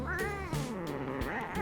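A domestic cat meows repeatedly while being groomed, its drawn-out, wavering cries coming close and loud in a steady string of calls across the whole moment.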